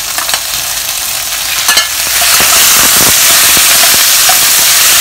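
Pork soft bones sizzle and fry loudly in a pot, with stirring scrapes at first, then a steady close hiss of frying that builds and holds throughout.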